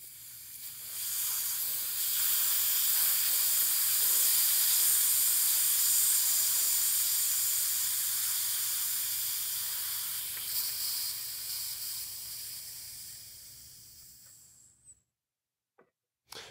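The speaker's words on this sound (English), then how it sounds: "I'm going to release the pressure from the chamber by turning this little" Air pressure released from a Firefly UV pressure chamber through a small brass knurled screw: a loud, steady hiss that builds, holds for many seconds, slowly fades, then cuts off, followed by a couple of faint clicks.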